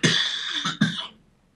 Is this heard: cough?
yes